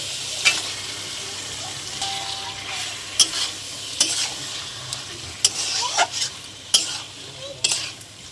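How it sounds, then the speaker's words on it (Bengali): Chicken pieces fry in masala oil in a pan, a steady soft sizzle under repeated sharp scrapes and knocks of a spoon as the meat is stirred. "আমাদের মশলা থেকে তেল ছেড়ে দিয়েছে। এখানে আমি চিকেনটা দিয়ে দিচ্ছি।"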